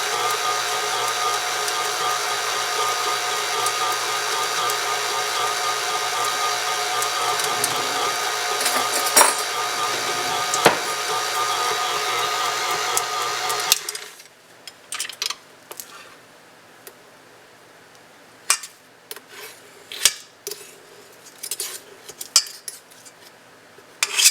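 Butter and cream cheese beaten together for a banana sour cream cake, a steady loud electric mixer whir for the first half, then it stops and scattered spoon and bowl clinks follow.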